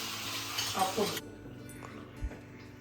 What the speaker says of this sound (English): So I'll put the pepper in and the tomatoes in at this time.